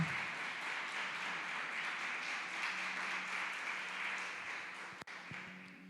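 A church congregation applauds Jesus, a steady wash of clapping holding at moderate level for several seconds before a brief break and a few quieter sounds near the end.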